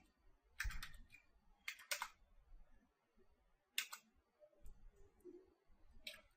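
Commands are typed on a computer keyboard in a quiet room, with a few quick clusters of crisp key clicks separated by pauses and a final keystroke burst.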